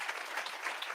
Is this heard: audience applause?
yes